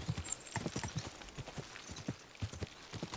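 A horse walks in the medieval role-playing game Kingdom Come Deliverance 2, with clear, rhythmic clip-clop hoofbeats on hard ground, a steady walking pace, moderately close and not overlaid by talk.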